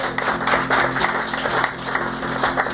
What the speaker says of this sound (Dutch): Mag ik dan toch nog even alleen al voor die inzet een warm applaus voor Gerhard.